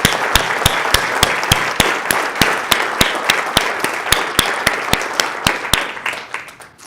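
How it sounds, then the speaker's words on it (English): An award-ceremony audience applauds for the entrants, with steady clapping that carries a strong regular beat, then tapers off near the end. "I want to first start with a very strong round of applause for each and every entrant"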